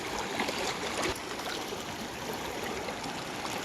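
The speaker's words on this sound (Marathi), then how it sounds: "पाणी फुलच एकदम फुल सुसाट पाणी चाललं आहे वेगामध्ये" Rushing water of a fast stream streams past steadily and fairly close at night, a continuous broadband roar with no voices.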